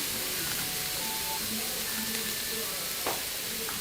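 Whole coriander seeds sizzle in a pan with coconut, a steady close frying hiss with light stirring and no talk.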